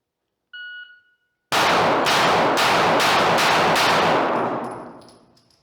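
A shooting stage where a start beep sounds, then a rapid string of loud, close gunshots fires in quick succession, ending with a ringing decay.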